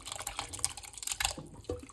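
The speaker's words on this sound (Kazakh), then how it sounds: "Зажаркамыздың үстінен тағы да шамалап сұрпа құйып, араластырып" Broth is poured over fried vegetables for a Kazakh chicken soup and stirred, producing faint dripping, splashing and light scraping sounds close by.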